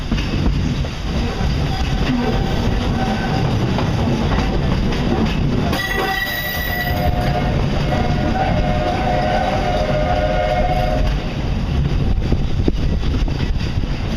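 A steady rumbling ride aboard the Magic Kingdom railroad train at Disney World, with constant rolling noise and occasional squeals from the wheels, heard from aboard the car.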